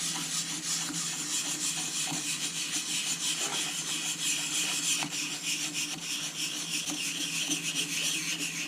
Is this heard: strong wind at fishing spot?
no